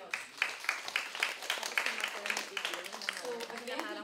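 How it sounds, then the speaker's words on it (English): Applause from the audience at a women's policy dialogue panel, a dense rapid patter of many hands that stays fairly faint and steady across the whole stretch, with no voices over it. "let's give them a round of applause."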